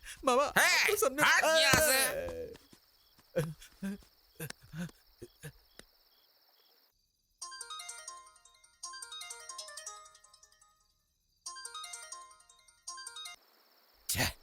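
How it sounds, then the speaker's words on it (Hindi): An electronic ringtone chimes in three repeated bursts with short pauses between, following a few seconds of talk and clattering at the start. "गुरुजी फोन क्यों नहीं उठा रहे?"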